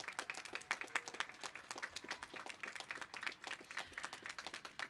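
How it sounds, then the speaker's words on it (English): A high school graduation crowd in 2021 applauds faculty and staff: dense, continuous clapping from many hands, fairly distant and quiet, with a steady crackling texture and no talking over it. "Please give our faculty and staff a round of applause at this time."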